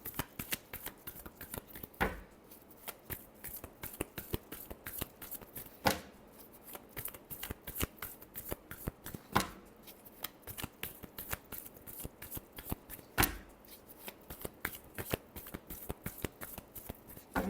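Tarot cards are shuffled by hand in rapid crisp riffles, with louder slaps every few seconds as the deck is squared, close and clear throughout.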